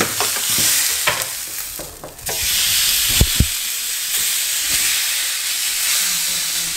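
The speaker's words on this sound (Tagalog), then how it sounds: "So, nagluluto na kami ngayon ng steak." Steak sizzles loudly and steadily on a hot cooking surface, a dense close hiss broken by a few clanks and knocks of handling, with no talk.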